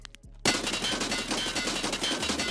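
A rifle in the Escape From Tarkov shooter game, fired in a rapid full-auto burst of loud, close shots after a short quiet lead-in.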